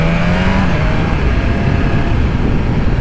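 A 2020 BMW S1000RR sport motorcycle accelerating, its engine a loud, steady, close roar that holds without a break.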